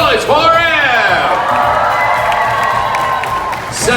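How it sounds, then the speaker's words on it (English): An audience at the Fear Factor Live show at Universal Studios Florida cheers, whoops and shouts loudly in a sustained roar that swells at the start and carries on to the end. "You are going to be cheering for your man, Joe. Make a little noise for him"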